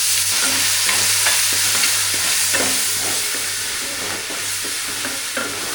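Sliced onions fry with ginger garlic paste in a pan for a meal maker gravy, a steady bright sizzle broken by repeated scraping stirs of a spoon, close and continuous.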